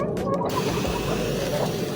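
A sprayer hisses steadily and closely over the floor of a chicken coop with wet droppings, giving a continuous rough spray with faint mechanical rattles throughout.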